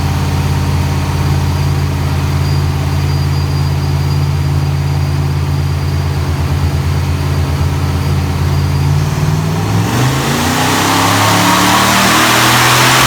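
A supercharged small-block Chevy 400 in a wagon runs on a chassis dyno with a steady, loud engine drone that climbs into a hard rev and roar over the last few seconds.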